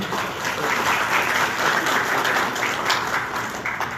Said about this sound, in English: Let's give Anthony a round of applause once again.